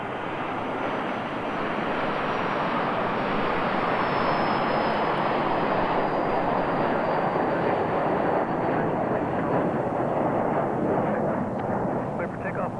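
Airplane engine roaring steadily through departure at Reno airport, a loud continuous broadband rumble that holds level for the whole stretch with no break, sounding close and powerful.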